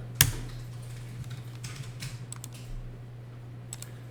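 Keys tapped on a computer keyboard to enter accounting data, with a sharp initial clack then scattered light keystrokes in quick irregular bursts over a steady low hum.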